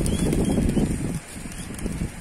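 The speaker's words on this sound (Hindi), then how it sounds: "अब उड़ाते हैं कबूतरों को" Flock of pigeons bursting into flight, a close, loud flurry of flapping wings for about a second that fades into lighter, scattered wingbeats.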